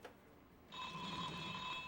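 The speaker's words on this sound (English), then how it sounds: "Okay, we'll answer the phone." A telephone in the X-Files PlayStation game starts ringing after a brief pause, a bright, steady electronic bell tone, quiet and alone.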